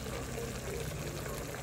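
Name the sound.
water poured into pot of sautéed native chicken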